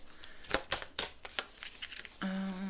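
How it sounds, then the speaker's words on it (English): Round, circle-shaped oracle cards are shuffled by hand in quick, uneven riffling flicks, close up, ending in a sustained tone. "These are really odd shaped. They're circles. So shuffling them is a whole situation."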